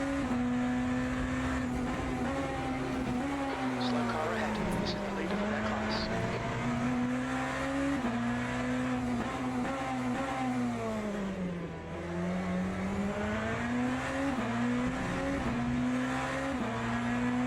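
BMW hypercar engine on a lap in Le Mans Ultimate, a steady droning note that dips and climbs with shifts and corners, sustained at moderate volume throughout.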